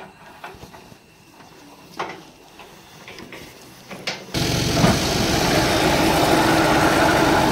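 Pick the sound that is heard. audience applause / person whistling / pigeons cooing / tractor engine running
tractor engine running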